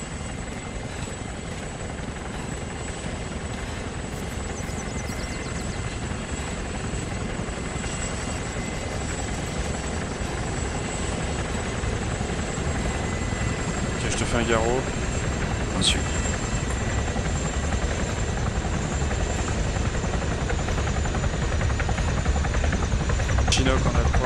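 Chinook transport helicopter in the military game Arma 3, its steady rotor drone filling the whole stretch at close, constant loudness while someone speaks over it on the radio.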